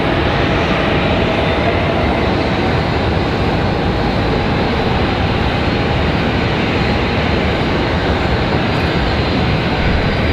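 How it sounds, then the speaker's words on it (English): A Boeing 777 airliner approaching the airport produces a steady, broad jet engine roar that stays constant and loud throughout, with no talking, as if heard from a spot near the airfield. "Hopefully you guys can hear that 777 already. That's quite the distance away."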